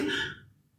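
A single short cough, fairly faint, quickly fading into quiet.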